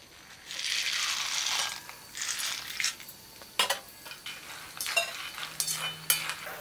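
Peanuts dry-roasting in a pan for homemade mixture: a soft rustling hiss at first, then sharp, irregular scrapes and rattles as the nuts are stirred, close and moderately loud.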